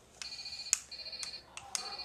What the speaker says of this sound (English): That's my Minnie Mouse phone.